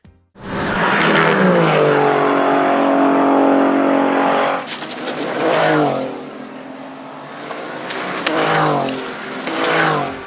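A twin-turbo V6 LMP3 race car engine howls loudly and close, holding a high rev before dropping into several rising and falling pulls as it accelerates past.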